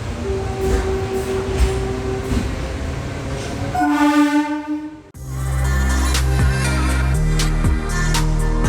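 A MEMU passenger train rolls into Tenali junction, a loud sustained rumble of wheels and carriages, with a tonal horn-like sweep midway, a brief dip, then heavy steady running noise and faint clanks.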